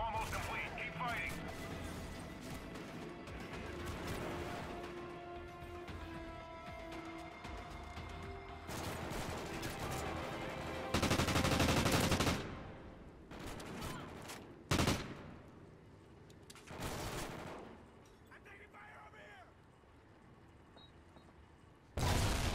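Gunfire in a competitive shooter game, with repeated loud bursts and volleys scattered through the stretch, some broadband blasts standing out, mixed with game voice callouts and background mechanical noise.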